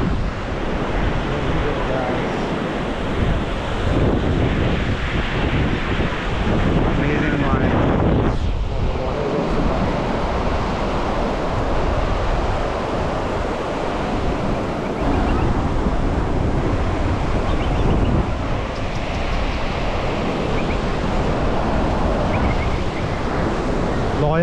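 Surf and gusting wind at Versova Beach in Mumbai, a dense, steady roar of breaking waves mixed with wind buffeting the microphone, loud and continuous throughout with no pauses.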